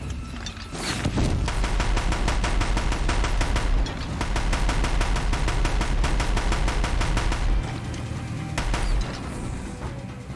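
Sustained rapid gunfire from a heavy gun picked up in Horizon Zero Dawn, a loud mechanical stream of evenly spaced shots running almost nonstop for about ten seconds with no talking.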